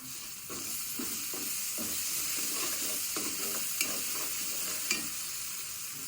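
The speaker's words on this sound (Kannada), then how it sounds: "ಈರುಳ್ಳಿ ಫ್ರೈ ಆಗಿದೆ. ಈಗ ಶುಂಠಿ ಬೆಳ್ಳುಳ್ಳಿ ಪೇಸ್ಟ್ ಹಾಕೊಂತೀನಿ." Onions frying with ginger-garlic paste for a crab curry, a steady loud sizzle throughout with repeated scraping strokes of a spoon stirring in the pan, no talking.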